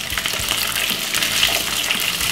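Leftover boiled dumplings frying in a pan with cabbage and sausage, a loud, steady close-up sizzle and crackle of hot oil throughout, with no talking.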